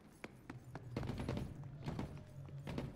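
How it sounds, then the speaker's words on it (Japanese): Rapid bursts of gunfire in the video game The Cycle: Frontier crackle in quick succession, a dense volley of shots with a low rumbling bed underneath. "この銃声はあなた、あなただね。"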